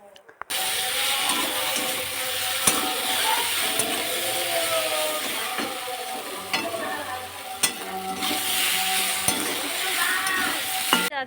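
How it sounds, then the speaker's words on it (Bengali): Soybean chunks fry and are stirred in a pan for a curry, a steady close sizzle with a spatula scraping and clinking against the metal now and then throughout. "আর সয়াবিনের তরকারি করব, তো কষানো শুরু হচ্ছে সয়াবিনটা"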